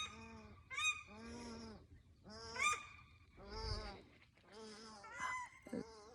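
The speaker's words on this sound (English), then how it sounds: "There's our paradise ducks again." Paradise ducks call repeatedly near a pond, a series of loud honking, chattering squawks in uneven bursts with short pauses between.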